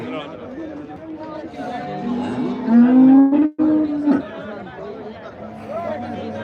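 A cow moos loudly and close by in a long low call at the Dhanaula livestock market, with people chattering in the background.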